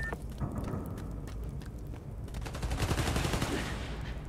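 Guns fire in the Marvel's Spider-Man: Miles Morales video game in rapid, sustained bursts of shots, loud and dense, growing busier toward the end.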